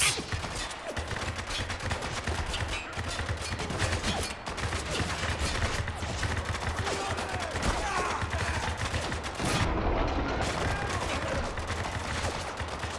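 Heavy, near-continuous gunfire in Spec Ops: The Line, rapid bursts and sniper shots stacking up loudly over several seconds, with voices talking now and then beneath the shooting.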